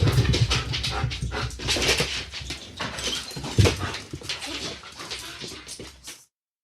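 Sasha, a big dog, whimpers and pants close by in quick, breathy bursts with high yips, with no talk over it before it cuts off abruptly.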